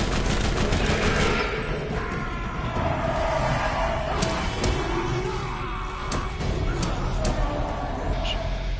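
Rapid gunfire in the video game Borderlands, repeated sharp shots and bursts of firing running loudly throughout over game sounds, with someone talking over it.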